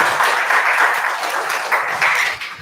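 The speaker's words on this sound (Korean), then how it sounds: "큰 박수로 서상범 선생님의 발제를 듣겠습니다." A seminar audience applauds with steady, dense clapping that continues evenly throughout without a break.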